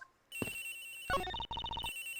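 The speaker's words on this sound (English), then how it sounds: "I better find that cell phone fast." A cell phone ringtone from the Ace Attorney Investigations video game plays loud and alone. After a short blip, a sustained electronic tone gives way to a bright, rapidly repeating chirping ring pattern.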